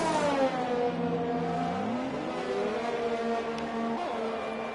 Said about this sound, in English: here comes a Renault